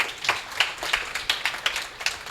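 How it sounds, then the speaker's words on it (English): Scattered hand claps from a small audience honoring a guest at an Amazon FBA business talk, a thin sparse patter of individual claps at an irregular, steady pace with no voices. "big round of applause for Jared"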